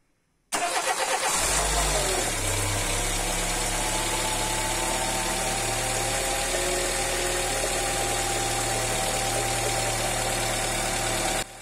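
A cold engine with its rocker cover removed cranks and fires after a brief silence, then settles into a steady, loud idle with a faint mechanical ticking that runs to the end, with no voices.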